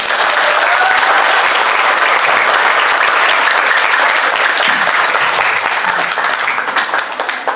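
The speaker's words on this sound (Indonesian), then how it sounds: "Masya Allah, tepuk tangan." Sustained applause from a school audience at a farewell overnight gathering, dense and steady clapping filling the room throughout, tapering slightly toward the end.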